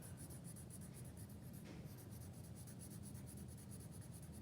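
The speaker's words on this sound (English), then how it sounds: "So I am just going up and down with my colored pencil." Colored pencil scribbling up and down in a zigzag on a paper coloring page, a steady continuous scratchy rubbing at close range with no talking.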